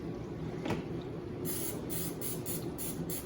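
Cooking spray hisses from an aerosol can into a deep 9 by 13 casserole dish, a short burst early on and then a quick run of about five spurts close to the mic over a steady low background.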